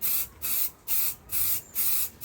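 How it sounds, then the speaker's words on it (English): Spray can of clear coat applied to a car headlight in five short, even hissing bursts with brief pauses between, close and fairly soft. "Just gonna test my clear coat. Okay, spraying good."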